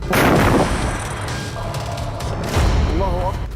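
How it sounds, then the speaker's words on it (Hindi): An Israeli tank explodes in Gaza with a loud booming blast followed by a rumbling roar and a second heavy burst, harsh and distorted, with voices faintly present. "जो धमाका है उसमें न सिर्फ इजराइल का टैंक फट रहा है"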